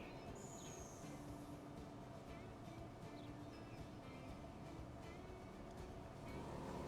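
Trains in the Transport Fever 2 video game rumble steadily along the line, with wheel squeal and faint whistling tones over a continuous rail-car drone.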